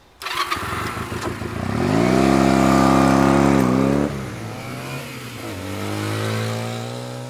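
A motorcycle ridden by a woman into a forest starts and revs loudly, the engine note climbing steadily for a few seconds, then dropping back and easing off as the bike pulls away.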